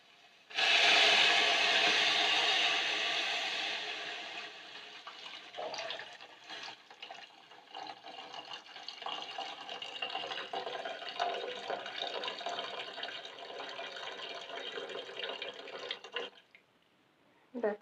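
Milk poured into a pot for spiced chai: a loud liquid splash and gush at first, settling into a steady, softer trickle that runs for about fifteen seconds before stopping.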